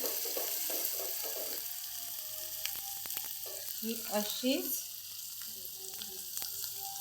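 Tempering of asafoetida, turmeric and coriander leaves sizzles and crackles steadily in hot oil for kadhi, a close continuous hiss with brief popping, while a voice speaks briefly over it.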